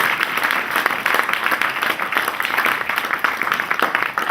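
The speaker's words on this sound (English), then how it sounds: "put your hands together and give all the people who's been behind this struggle for years a big round of applause" A crowd at an independence celebration at the Highfields Centre gives a big round of applause, steady, full clapping from many hands without talk, holding even across the whole stretch.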